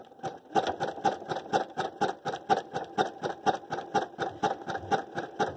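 A sewing machine stitches a knit neckband onto a garment, running steadily in a fast, even rhythm of close, regular needle strokes with no talking.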